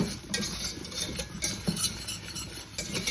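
Utensil scraping and beating a thick milk-based paste in a pot on a switched-off stove for chicken cordon bleu, a steady close rhythm of stirring strokes and light metallic clinks with no talking.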